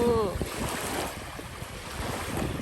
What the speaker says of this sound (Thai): ฟินแลนด์ก็มีชายหาดนะคะ มีทะเลมีชายหาด